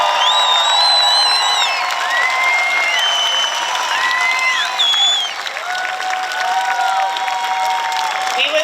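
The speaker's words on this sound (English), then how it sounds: "Let's have another round of applause for the class of 2023." Sustained crowd noise at a high school graduation ceremony, with clapping and high whoops and cheers rising over it, dense and steady throughout.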